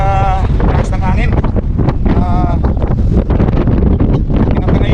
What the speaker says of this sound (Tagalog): kita nyo yung lakas ng hangin